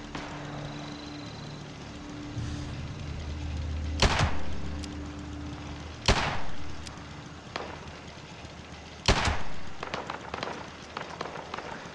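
Gunfire in Fallout 76, with three loud, sharp single shots spaced a couple of seconds apart over quiet ambient game noise, followed by a few fainter clicks and impacts.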